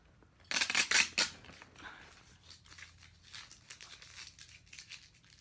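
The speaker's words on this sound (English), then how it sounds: "Take this old sticker off." Old sticker being peeled from a Cascade CPVR hockey helmet: a quick, close, crisp tearing rip of about a second, followed by quieter scattered crinkles and scratchy peeling sounds.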